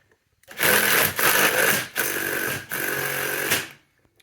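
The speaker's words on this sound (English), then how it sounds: "use the small impact to go and actually tighten this" A small impact wrench tightens a 19 mm nut on the clutch of a Jawa 350 motorcycle during a barn-find restoration, firing in three loud, close bursts separated by short pauses.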